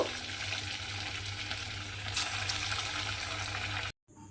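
Sago fingers fry in hot oil with a steady, dense sizzle that holds evenly for about four seconds, then cuts off abruptly.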